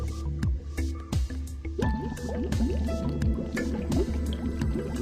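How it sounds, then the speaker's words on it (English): Air and water mixed under reduced pressure churn turbulently through an MBR flat-sheet membrane pipe during cleaning, producing continuous gurgling, squelching and dripping liquid sounds with irregular bubbly pulses, close and fairly loud. "Because of reducing the air pressure and water pressure, the mix of air and water makes turbulence."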